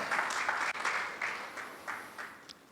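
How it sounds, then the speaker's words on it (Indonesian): A church congregation clapping during a Sunday worship service: a soft, washy spread of applause rising in uneven surges and slowly fading, fairly distant with no clear speech. "Berikan tepuk tangan."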